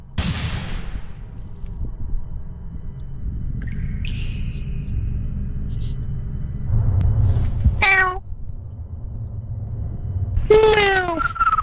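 Two rising-and-falling cat meows, one midway and one near the end, over a steady low game rumble with scattered electronic tones.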